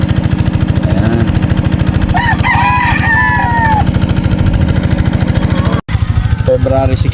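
A Boston over Pocket Gray gamefowl breeder rooster crows once, loud and close, over a constant engine rumble, with people talking nearby.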